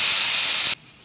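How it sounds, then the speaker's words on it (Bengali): Spices sauté in a pan for a village-style fig dumpling curry, giving a bright, close sizzle that lasts under a second before cutting off abruptly. "সব মশলাগুলো একত্রিত দিয়ে দিয়েছি, কষানো হচ্ছে।"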